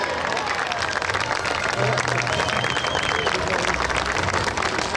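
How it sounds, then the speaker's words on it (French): A crowd claps steadily and loudly at an outdoor historical reenactment of a 1945 combat scene in Serris, dense applause with some murmuring voices underneath throughout. "Allez, vous pouvez les applaudir."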